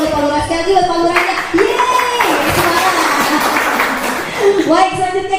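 Audience clapping for a village head at a community event on small businesses, bursts of crowd applause mixed with loud voices and cheering, fairly close and busy.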